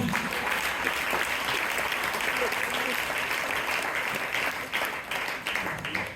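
Applause from a church congregation praising Jesus during a service, dense steady clapping filling the room for several seconds, with talk mixed in.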